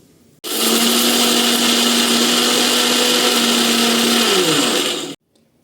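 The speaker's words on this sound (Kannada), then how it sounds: "ಇದನ್ನು ಕೂಡ ಮಿಕ್ಸಿ ಮಾಡ್ಕೊಳ್ಳೋಣ ಬನ್ನಿ" A kitchen mixer grinder runs on roasted gram, grinding it into powder: a loud, steady motor whine with a harsh broadband roar that holds for about five seconds, then slows and winds down to a stop.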